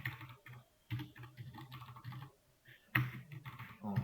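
Close keystrokes on a computer keyboard as keys are pressed one after another in short irregular runs, with brief pauses and a sharper tap near the end, no voices.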